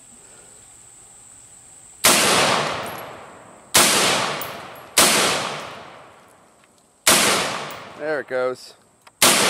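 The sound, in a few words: M4 rifle gunfire shooting at a bone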